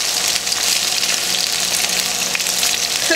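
Chicken browning in a pan sends up a steady, close hiss of sizzling oil, loud and even throughout, with no talking.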